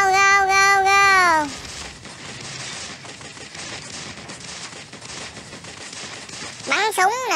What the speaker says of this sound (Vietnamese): Bắn súng bùm bùm bùm bùm bùm bùm bùm bùm.